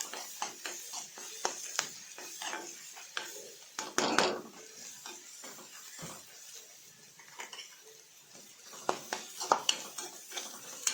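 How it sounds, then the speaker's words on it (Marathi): A spatula sautés a ground peanut and green chilli spice paste in oil in a metal pan, giving frequent light clinks and scrapes against the pan at a steady, uneven pace, close and moderately quiet. "हे मिश्रण छान आपण तेलामध्ये परतून घेणार आहोत।"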